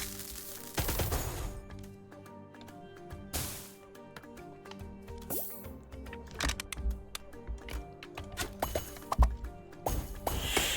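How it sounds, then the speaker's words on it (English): Rockets fired and exploding in the game Flick Shot Rogues: a series of sharp, close bursts and clacks over a soft musical bed, irregular hits scattered throughout, growing busier toward the end. "we are gonna send some rockets. Kaboom."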